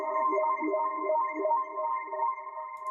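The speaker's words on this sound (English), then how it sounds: "And then I actually have another arpeggiator thing here." Spacey, wide stereo synth arpeggiator in FL Studio for a UK garage track, sustained tones under a rippling, wobbling note pattern, steady and fairly loud with no talking.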